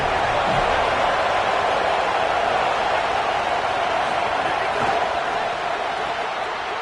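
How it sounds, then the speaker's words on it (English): Football stadium crowd cheering, a dense, loud, steady roar of many voices with no distinct breaks, holding at a constant level throughout. "This crowd ready to make its presence known."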